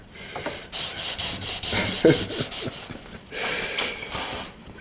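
Steady back-and-forth rasping of sandpaper on wood, in uneven strokes, close up with no talking.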